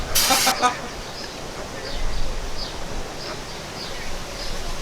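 A short burst of brake cleaner sprays onto the rear brakes of a Denali, a sharp loud hiss lasting about half a second, followed by quiet ambient noise.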